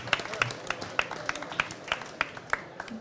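An audience at an evening charity event for farmers gives scattered applause, a distinct run of separate, fairly sharp claps spaced at a roughly even rhythm, moderately loud and heard without any talking over them.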